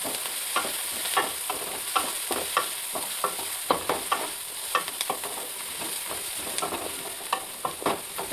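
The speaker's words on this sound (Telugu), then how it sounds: "ప్రజెంట్ ఆనియన్స్ వేగినలేవో చూద్దాం" Sliced onions fry and sizzle in a hot pan for bagara rice, with a steady crackling hiss and repeated sharp scrapes and clinks of a spoon stirring through them, close and fairly loud, with no talk.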